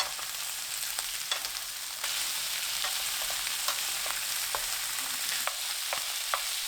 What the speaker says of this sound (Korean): 양파 넣고 1분 볶아주세요.